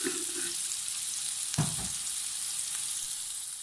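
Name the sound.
potatoes frying in a pan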